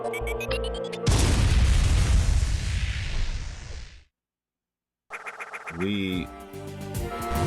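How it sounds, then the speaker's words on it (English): Power bomb detonating inside an unstable power plant in AM2R, a loud sustained booming blast after a short electronic jingle, fading to total silence before chiptune-like game sounds resume. "we just used a power bomb in an unstable power plant"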